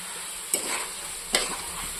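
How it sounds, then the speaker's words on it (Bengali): Spice paste for a cabbage chorchori with small shrimp sizzles steadily in a pan, with two distinct scraping stirs about a second apart over the continuous close hiss. "ততক্ষণ মশলাটা একটু ভাজা হয়ে যাক"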